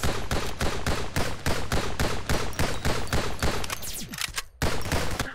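Rapid, chunky automatic gunfire from a weapon in the video game NIMRODS, loud and continuous with a steady rhythmic beat, briefly cutting out near the end before resuming.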